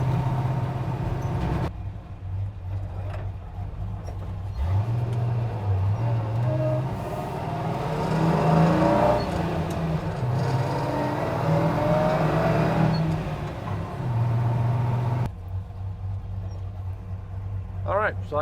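A cammed 5.3L engine with FlowMaster Pro Outlaw mufflers, fitted to a 60-year-old car making 400 horsepower, accelerates with a loud, close, throaty roar that swells and eases over the whole stretch.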